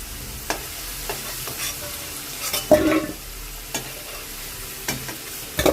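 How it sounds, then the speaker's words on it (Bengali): Potato pieces frying in oil, a continuous close sizzle with a few sharper crackles and stirring scrapes, no talking. "আলুগুলো দিয়ে দেওয়া হলো বেশ লাল লাল করে ভেজে নিতে হবে"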